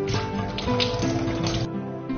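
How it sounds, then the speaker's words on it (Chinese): Walnuts and black sesame are rinsed under a running tap, giving a continuous close splashing and rushing of water with small clattering variations. "然后我们来洗一下黑芝麻，然后我们接下来呢来洗核桃"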